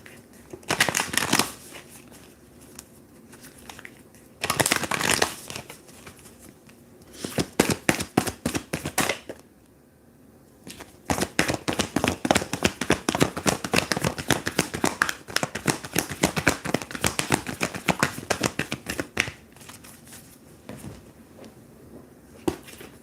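A deck of Moonology oracle cards is shuffled close by in quick riffling bursts, some short and some sustained, separated by quiet gaps.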